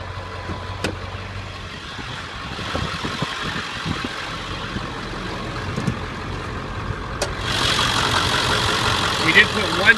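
An old Ford truck engine runs with a low, rough rumble, mixed into broadband background noise that stays steady and moderately loud throughout and brightens toward the end.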